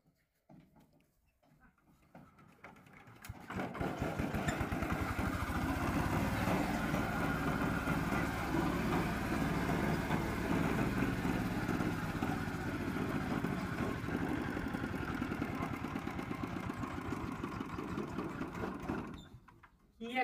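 A motorcycle engine catches after a brief quiet moment, then idles in a steady, throbbing chug for about fifteen seconds before cutting off abruptly, with faint voices in the background.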